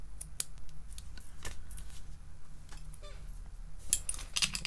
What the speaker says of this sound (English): I'm just going to trim that little piece of ribbon off